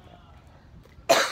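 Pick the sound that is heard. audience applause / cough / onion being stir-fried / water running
cough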